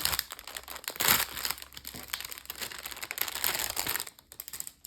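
Plastic pouch of embroidery threads being opened, with dense close crinkling and crackling of plastic handled in bursts and a louder rustle near the start, then a brief quiet at the end.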